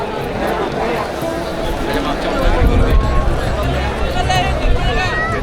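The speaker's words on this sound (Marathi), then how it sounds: "लाखोच्या संख्येने शिवभक्त आपल्या रायगडावर आलेले आहेत आणि गर्दी तुम्हाला बघायची आहे तर ही बघा" Dense murmur of a huge crowd of devotees gathered at Raigad fort for the Shivrajyabhishek celebration, a steady outdoor hubbub of many voices with scattered louder calls throughout.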